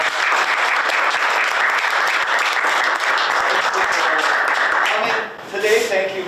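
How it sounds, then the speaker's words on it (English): An audience at a Hibbing Area Chamber of Commerce event applauds in a dense, sustained round of clapping that cuts off abruptly near the end, followed by a few scattered claps and murmurs. "let's give them one more round of applause"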